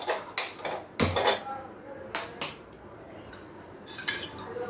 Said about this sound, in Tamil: ஒரு கடாய் வச்சுட்டு ஸ்டவ் ஆன் பண்ணிக்கலாம்.